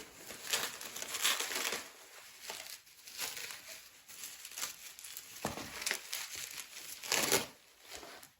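Sheets of A4 300 gsm cold-pressed watercolour paper being unpacked, giving bursts of crisp crinkling and rustling that come and go in uneven waves, close up and fairly loud, with no speech.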